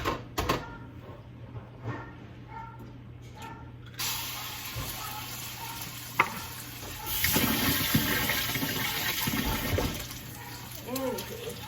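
An egg frying in a pot on a turned-down stove after bacon, giving a steady close sizzle that swells midway and runs on to the end, with a few clinks over it.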